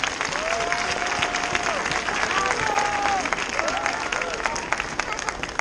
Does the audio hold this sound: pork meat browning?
no